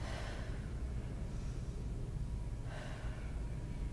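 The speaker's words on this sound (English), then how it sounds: "Deep breath in through the nose and deep breath out through the mouth" Deep breathing during a Pilates leg-circle exercise, a long drawn breath followed by a slow airy exhale, close and steady with no talk.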